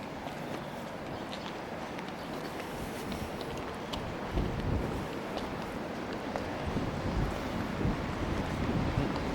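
Steady wind at Pendine Sands buffeting the microphone, a constant broadband rumble with a few stronger gusts partway through, no voices.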